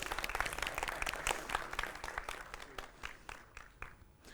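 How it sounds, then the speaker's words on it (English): A conference audience applauds after a C++ programming talk, a dense round of clapping that is moderately distant and fades toward the end. "So let me dedicate this nice round of applause"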